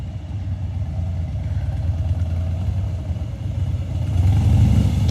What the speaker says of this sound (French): Il est parti faire chauffer sa moto pour faire sa vidange de primaire.